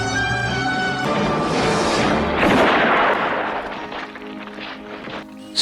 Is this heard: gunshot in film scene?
yes